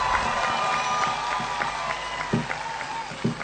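Audience applause and crowd noise at a Marwari-language poetry and comedy event, steady clapping with scattered claps, moderately loud with no one speaking over it.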